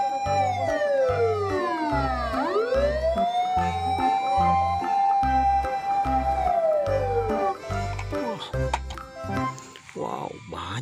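A toy ambulance wails with a rising and falling electronic siren, loud and close, while a steady looping beat plays underneath; a voice speaks briefly near the end.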